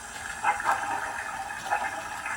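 A small watery gurgle and hiss from a customized Bachmann Shay model locomotive's water siphon sound effect, with a few soft bubbling surges over a faint steady background hum.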